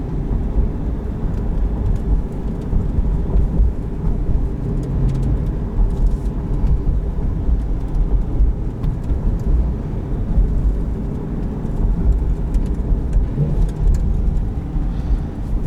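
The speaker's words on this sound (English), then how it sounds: "Oh, downshifts. Downshifts, you're a beautiful thing." A 2021 Chevrolet Corvette 1LT with performance exhaust rumbles steadily and loudly from inside the cabin, a continuous deep engine drone with slight swells as it downshifts, no talking over it.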